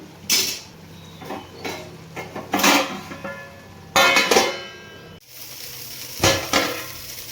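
Mint rice being stirred in a cooking pot with the lid lifted: several loud scraping and clattering bursts of a spoon and metal against the pot over a low simmering sizzle, close and irregular.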